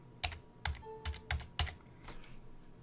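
A computer keyboard typing a short search into a find box on a web page's source, about six crisp, close keystrokes tapped at an uneven pace, then quiet.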